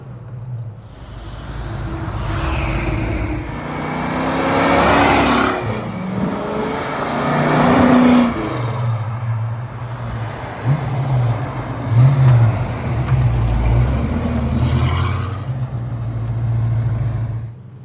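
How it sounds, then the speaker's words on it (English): A 1969 Pontiac GTO muscle car accelerates hard on a road, its V8 engine revving up loud and close through several surges and gear changes, heard from inside with the window open. "we'll get on it a little bit and show you how she accelerates, which is what these muscle cars were all about"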